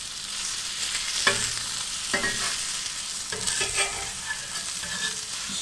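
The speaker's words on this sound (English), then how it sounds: "get this bacon flipped over" Bacon sizzling and crackling on a hot Aldi kamado grill, a steady close hiss broken by a few sharp pops and the scrape of the bacon being moved, with no talking.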